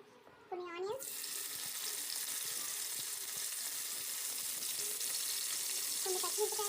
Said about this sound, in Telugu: 2 table spoon oil, oil heat అయితే అయిందండి. కొన్ని ఆనియన్స్,